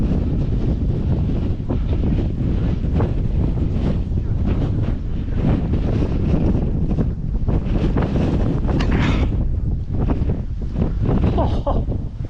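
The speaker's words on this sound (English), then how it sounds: "Sheltering from the wind." Strong wind buffets the microphone on the Cruggleton coast, a constant loud roar with gusting surges throughout.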